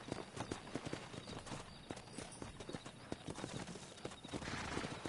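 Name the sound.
horse hooves clip-clopping, from a video game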